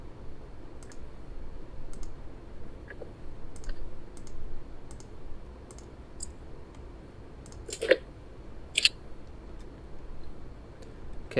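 Loud typing on a computer keyboard produces scattered sharp clicks and key taps, irregular and fairly close, over a quiet background hum with no talk.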